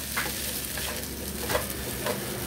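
Siomai fried rice tossed and mixed in a pan, several spatula scrapes at irregular intervals over a continuous loud sizzle, close up with no talking.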